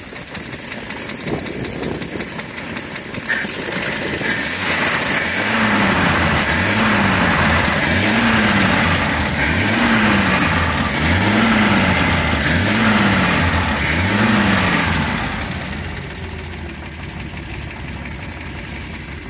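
A 1941 Chevrolet Special Deluxe six-cylinder engine idles steadily and smoothly, with a regular low pulsing rhythm at close range that swells in the middle and then fades slightly toward the end.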